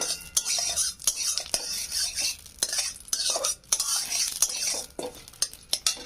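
A spoon stirs ghee and a bay leaf in a pan with a faint sizzle underneath, giving repeated sharp scrapes and clinks of metal on metal at an uneven rhythm, close up.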